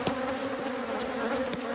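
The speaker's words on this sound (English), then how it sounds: "These bees are wanting to tear me up." Honey bees swarm and buzz angrily at an opened hive during a honey harvest, a dense, steady drone close by with no pauses or voices.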